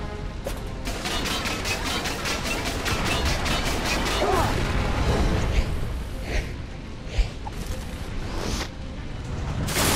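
Rapid bursts of rocket and blaster fire with explosions in a LEGO Star Wars battle level, a dense run of sharp repeated shots over a constant rumble, then scattered louder blasts near the end.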